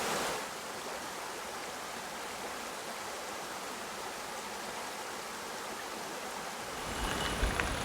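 A creek in the Spanish Basque Country flowing steadily, with a soft continuous wash of running water that holds even throughout and grows slightly louder near the end.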